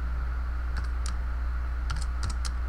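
A handful of crisp key clicks on a computer keyboard type a part name in modelling software, coming in small irregular clusters over a steady low background hum.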